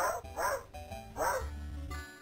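A dog barks three times in quick succession, close and distinct, with a short whimpering tail after the last bark.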